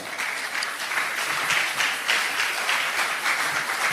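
A church congregation applauds and claps for several seconds at a sermon, with steady, moderately distant applause and no talking.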